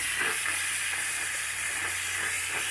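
A handheld fabric steamer hisses steadily and loudly while an NSX seat skin is being fitted, with a continuous broadband sizzle and no pauses or speech.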